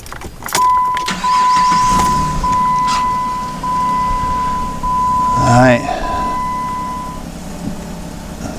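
The engine of a 2010 Jeep Cherokee cranks and catches, with a short starter whine before it settles into a steady idle, all under a constant tone and nearby background noise.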